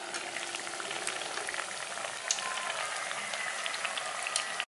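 Maida and yogurt snack dough deep frying in hot oil, a steady dense bubbling sizzle with scattered crackling pops throughout, close and continuous with no talking.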